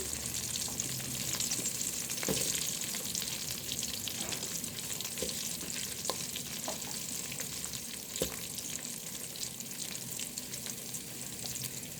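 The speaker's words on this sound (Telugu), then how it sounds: "ఒకసారి కలుపుకుందాం కొంచెంసేపు ఫ్రై అవనిద్దాం" Onion and green chilli pieces fry in a pan with a continuous close sizzle, broken by a few soft stirring scrapes, no voices.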